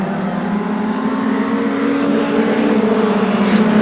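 Short track race cars roar as they accelerate off the final turn at the green flag, a loud sustained engine drone with a steady pitch holding close and constant.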